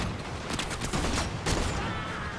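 Rapid gunfire from a weapon in the Warframe shooter game, a dense continuous fusillade with loud overlapping shots throughout and no talk.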